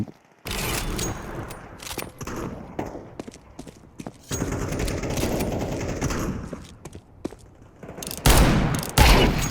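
Sustained gunfire in a shooting video game: loud automatic bursts and rapid shots rattle almost continuously, with a dense stretch in the middle and two heavy blasts near the end.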